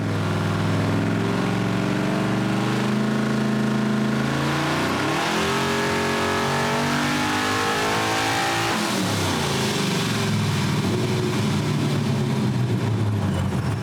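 A turbocharged car engine during a long high-gear pull, loud and close, with a steady rising drone through several gear-held climbs and a shift-like dip midway, then continuing to build, no talk.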